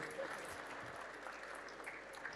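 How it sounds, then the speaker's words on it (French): Faint applause from an audience at a French cybersecurity conference session on AI in offensive audits, a soft, distant patter of clapping sustained evenly for a couple of seconds. "je pense que vous pouvez les applaudir un petit peu plus fort"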